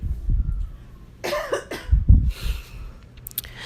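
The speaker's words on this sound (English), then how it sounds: "I keep having to move the phone away so that I can sniffle and sneeze and cough." Someone nearby coughs a few times in quick, harsh bursts, with short breaths between them in an otherwise quiet room.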